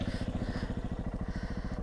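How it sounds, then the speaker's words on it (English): Motorbike engine idling close by on a trail in Papineau-Labelle, a loud steady throbbing pulse that runs without a break through the whole stretch, with no voices over it. "I'm just gonna engine off, Dead stick it."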